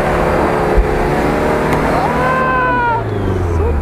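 Off-road vehicle engine revving hard with the pedal floored, loud and close, pitch climbing and falling in sweeping rises over a steady rumble.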